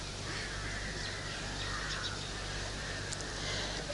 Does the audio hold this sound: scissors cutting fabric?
no